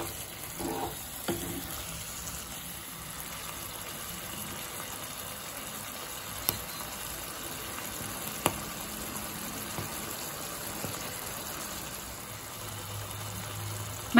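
Bottle gourd curry cooked in milk is stirred in a pan until dry, a faint steady sizzle broken by a few sharp spoon clinks against the pot, with no talking.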